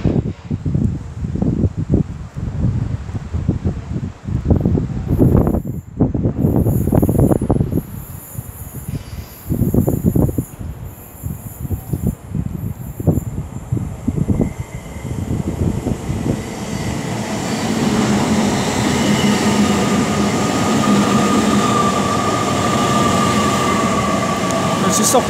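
An Avanti West Coast train passes through Rugby on the West Coast Main Line, first with rattling, irregular bursts of wheel and track noise, then a steady, building rumble and hiss as it runs by close.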